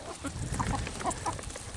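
Chickens clucking close by, several short overlapping clucks in a quick, busy chatter.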